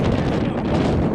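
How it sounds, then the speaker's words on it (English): Strong wind buffets the microphone on a hilltop in West Yorkshire, a continuous loud roaring rumble with no letup. "you can't come up to the top of a hill here in West Yorkshire and expect it not to be windy"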